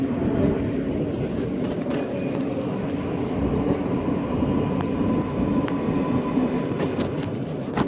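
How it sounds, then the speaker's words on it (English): A Brooklyn-bound L subway train rumbles steadily through a New York City tunnel, a loud continuous roar with faint metallic squeals and clicks rising above it. "Brooklyn-bound L train."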